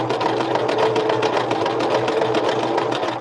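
A sewing machine stitches around the edge of a bag, a fast, even mechanical chatter with a low motor hum, close and continuous for a few seconds.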